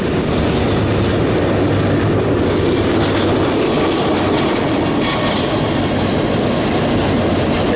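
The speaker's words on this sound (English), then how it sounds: "This is Ohio, we got trains." A train rolls past on railroad tracks close by in Ohio, a loud continuous rumble and rattling wagon noise filling the whole stretch without pause, no talking over it.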